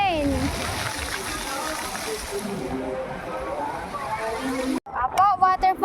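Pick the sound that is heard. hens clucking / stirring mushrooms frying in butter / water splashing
water splashing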